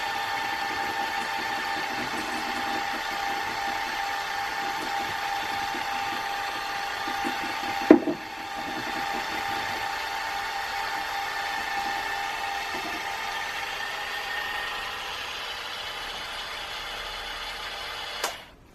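An electric mixer beats gluten-, lactose- and yeast-free Victoria sponge cake batter with a steady, close whirring drone. There is a single knock near the middle, and the motor cuts off right at the end.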